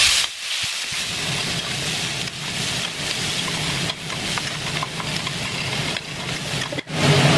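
Chopped onion hits a hot pan and sizzles in a steady, loud, close hiss that continues without a break, with a few short dips.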